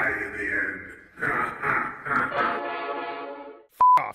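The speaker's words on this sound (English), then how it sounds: "Fuck off, train." A train rolls past with its horn sounding in long blaring blasts, loud and near, the horn fading out before a brief sharp click near the end.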